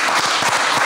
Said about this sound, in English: I don't know what we clapping for